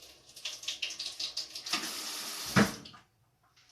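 Filtered water runs from a kitchen tap in a steady splashing stream, with a louder gush near the end before it cuts off into silence.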